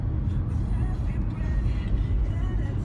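A car on the move, driven to a birthday barbecue, heard from inside as a steady, close low rumble of engine and road noise that runs unbroken throughout.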